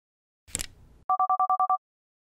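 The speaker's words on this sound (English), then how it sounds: "Judging by the seven consecutive identical dial tones often associated with the number 4" Seven identical touch-tone beeps for the number 4 in the Microbe-Verse video game, short evenly spaced pulses right after a brief muffled rustle, clear and alone.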